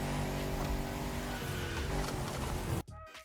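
Car in The Crew Motorfest video game cornering hard, engine roaring steadily with tires squealing through the turn, then cutting off abruptly near the end.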